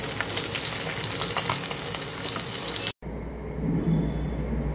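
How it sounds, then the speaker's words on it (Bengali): Tangra fish sputtering and popping as it fries in oil in a pan, loud dense crackling for about three seconds, then a brief cut and a softer, quieter sizzle with light stirring. "ট্যাংরা মাছ না পটাশ পটাশ করে ফুটছে, আর আমি অল্প অল্প করে দিয়ে ভাজা করছি"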